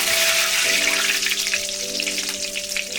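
Curry leaves dropped into hot oil with popping mustard seeds for mango pickle, a bright crackling sizzle with a steady low hum under it, no talk.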